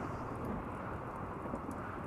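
Steady rain and rumbling thunderstorm in the game Rimworld, a dense low wash of rainfall with distant thunder, continuous and moderately quiet with no talk.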